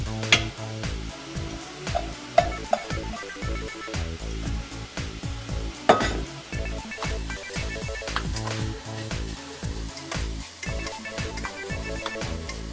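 Green onions hit a hot pan for a spanakopita filling and sizzle with a steady, bright hiss, broken by repeated clicks and knocks of stirring, all close and without talk.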